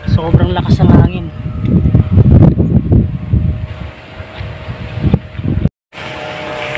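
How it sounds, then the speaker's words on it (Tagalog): Strong typhoon wind, signal number 2, buffets the microphone while a kite is flown high, roaring gusts under excited talking, with a brief dropout near the end. "Sobrang lakas ng hangin."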